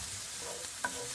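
Onions frying in a pan with a steady soft sizzle while being stirred, including one brief scrape, heard close and alone.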